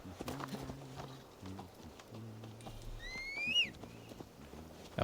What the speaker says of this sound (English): I gotta let my horse do the walking